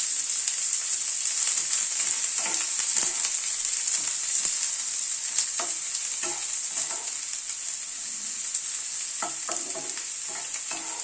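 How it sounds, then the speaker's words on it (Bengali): Chopped onion fries with cumin seeds in hot oil, giving a continuous bright sizzle, while a spoon scrapes and stirs the pan in scattered knocks throughout. "পেঁয়াজটাকে আগে হালকা করে ভেজে নিচ্ছি।"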